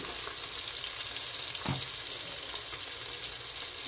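Beef shank for callos goes into a hot pan, with steady close frying and sizzling throughout and one brief clunk as the meat drops in.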